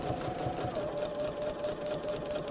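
A sewing machine running steadily with a continuous whirring, mechanical hum, close and alone with no talk, unbroken through the short stretch.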